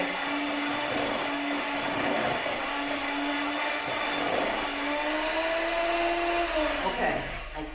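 A KitchenAid stand mixer beating butter and sugar for shortbread cookies: a loud, steady motor whir with a constant hum that shifts slightly in pitch near the end, running continuously at close range.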